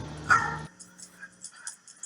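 A dog gives a brief bark and yelp at the start, then quieter whimpers and whines follow in short bursts, close by in an indoor setting.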